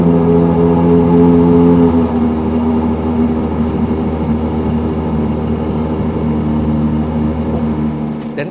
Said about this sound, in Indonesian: kita dengarkan dulu suara cold start-nya dari mesin ini